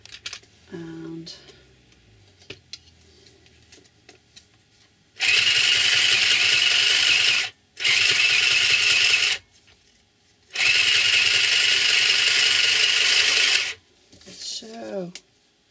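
A second sewing machine used for thick layers of scraps, trims and yarn runs in three loud, steady bursts of stitching, with short pauses between them and quiet handling sounds before and after.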